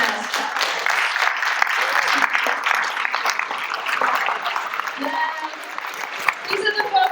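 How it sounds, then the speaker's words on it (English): Standing crowd applause for Progressive Mass chapter members at an annual member meeting, dense steady clapping filling the room for several seconds with some cheering voices mixed in. "if you will stand for a round of applause."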